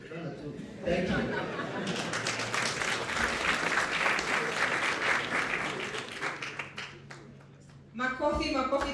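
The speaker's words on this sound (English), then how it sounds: "Makofi, makofi tafadhali." A convention audience at a young aspirants' national accountability charter gathering breaks into sustained applause mixed with chuckles and chatter, rising quickly and fading after several seconds before a voice speaks again.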